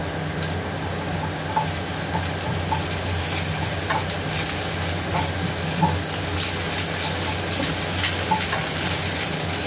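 Garlic frying in a pan for chicken adobo, a steady close sizzle and crackle running without pause.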